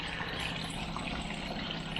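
Pond water poured from a scoop across a garden pond, a soft, continuous splashing trickle at close range, fairly quiet, with no talk.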